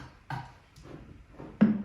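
Four separate tom drum hits, each a deep boomy thump that decays quickly, the last one loudest and most resonant.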